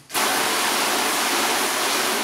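A garden hose sprays a steady, loud rush of water onto a car during a detailing test of quick detailer products. The hiss is continuous and close for the whole stretch, with no talking.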